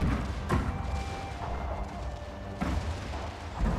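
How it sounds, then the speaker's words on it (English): Cannon fire in a Total War battle game, dull artillery booms arriving at irregular intervals, a few heavy thuds over a low background rumble, with no voices. "Still a lot of cannon fire."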